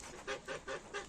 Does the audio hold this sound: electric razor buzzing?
no